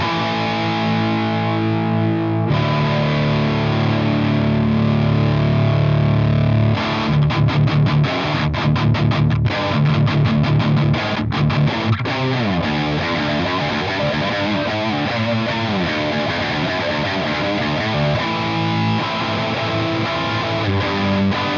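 An electric guitar runs through a Peavey 5150 virtual preamp with gain down and no power amp, producing loud distorted chords, then a stretch of fast chugging palm-muted riffing and sustained crunchy playing, with no voices.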